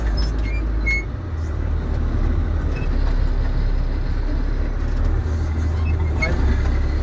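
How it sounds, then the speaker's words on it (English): Heavy road traffic rumbling past on a rural road, a steady low drone of buses, trucks and cars with a brief air-brake hiss, continuous and fairly loud with no one speaking. "Gonna watch the traffic here a little bit."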